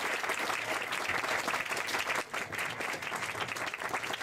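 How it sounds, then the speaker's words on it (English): Wedding reception guests applauding the bride and groom, a sustained burst of dense clapping from a room full of people, fairly distant and soft, with a brief dip midway before it carries on. "So a round of applause for a fantastic couple."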